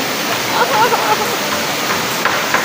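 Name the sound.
loud mini waterfall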